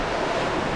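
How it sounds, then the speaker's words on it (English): Big ocean waves roll and wash against a sailboat far out at sea on an open-water Pacific crossing, with strong wind gusting across the microphone in a steady, loud rush. "We are getting some big waves over the side of the boat."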